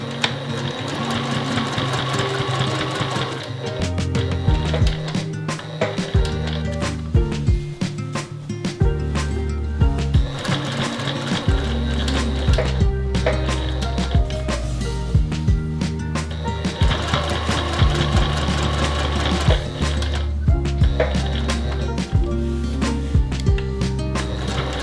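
A sewing machine stitches a label onto a quilted fabric book sleeve, backstitching at the start and finish; a steady mechanical whir with rhythmic needle clatter runs close and continuous, pausing briefly between bursts of stitching.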